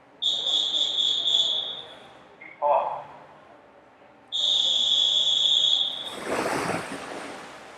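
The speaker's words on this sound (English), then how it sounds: "Officials have blown the whistle, the swimmers are in the pool" Long, shrill whistle blasts from officials at an indoor swim meet sound twice, each held for about two seconds, over a noisy pool hall. A brief rush of water or crowd noise follows.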